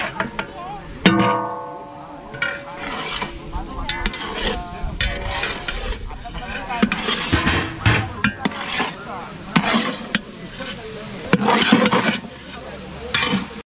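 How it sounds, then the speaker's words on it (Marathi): A potato vegetable dish being stirred and cooked in a pan, with steady scraping and sizzling strokes and occasional utensil clanks, part of a busy outdoor cooking setup at a Shivjayanti free health camp, with voices and background bustle throughout. "बटाट्याची भाजीचं काम चालू आहे"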